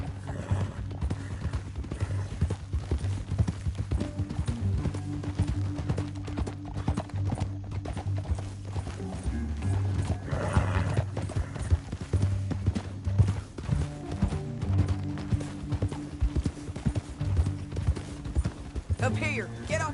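Horse hooves clip-clop steadily in the Western video game Red Dead Redemption 2, with a few whinnies over a low rumbling soundscape and speech breaking in now and then.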